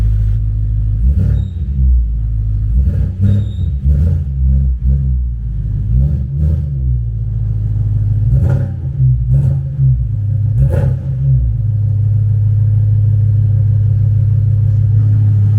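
A loud, deep BMW E93 M3 engine idles steadily and close by, its throaty rumble punctuated by a few sharper blips and pops throughout.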